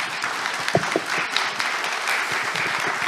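Audience applause at a Korean church book-launch event for pastor Kim Ki-seok, a steady dense patter of many hands clapping throughout, with a few sharper claps standing out near the start.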